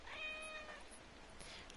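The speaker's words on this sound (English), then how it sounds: "I'm hearing a meow." A cat in the Assassin's Creed video game gives a single short, faint meow near the start, set against a quiet ambient background.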